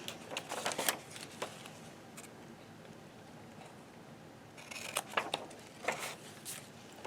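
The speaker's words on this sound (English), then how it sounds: "You could just get your scissors when you're cutting and" Scissors cut through paper while making library pockets, quiet crisp snips in short clustered bursts separated by a pause, close to the microphone with no talk.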